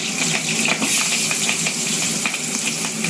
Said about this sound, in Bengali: আলু করে লাল লাল করে ভালো করে ভেজে নেবো।